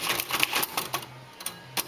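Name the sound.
typing on Royal Quiet Deluxe typewriter, keys sticking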